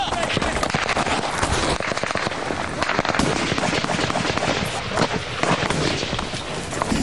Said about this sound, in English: So much shooting, it's hard to tell where it's coming from.